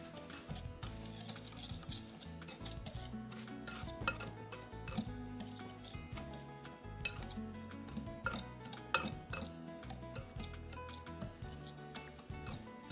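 Batter being stirred in a bowl after melted butter is added, for a frozen brazo de Mercedes, with steady clinking and scraping of a utensil against the bowl continuing throughout, close and fairly busy.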